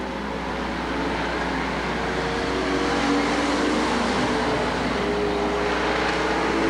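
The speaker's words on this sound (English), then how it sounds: "Kyle Medina drops down inside to keep Darren Knight on the outside" Street stock race cars roaring around an oval speedway during a main event, a steady, loud, continuous engine drone with overlapping motors and no break.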